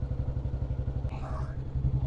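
A Bullet motorcycle engine thrums in a fast, pulsing low rumble throughout while riding, with a brief voice heard faintly over the engine noise.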